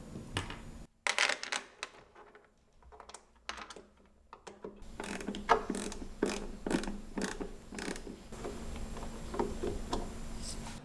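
Screws being driven in while assembling an Impulse induction cooktop, with close, irregular clicking and ratcheting taps in clusters and brief pauses between, no talking.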